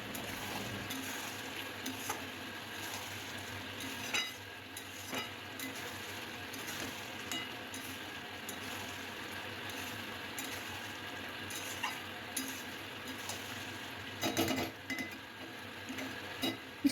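Young mutton browning in a pan, stirred repeatedly with a spatula: a soft continuous sizzle under periodic scraping and metallic clinks against the pan, quiet and close, without talk.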